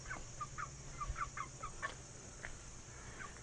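Chickens on a homestead cluck softly and repeatedly in a steady, uneven patter, heard at moderate distance over a constant background hum, with no talking.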